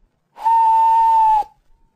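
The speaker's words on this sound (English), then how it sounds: "he heard a whistle." A single steady, high whistle blows for about one second, clear and fairly loud, then cuts off.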